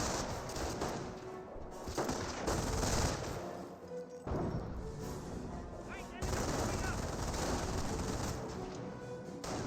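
Dense, continuous gunfire and scattered bursts rain down on a US rifle squad during a battle in Company of Heroes 1 against Wehrmacht forces, loud and sustained with overlapping shots throughout.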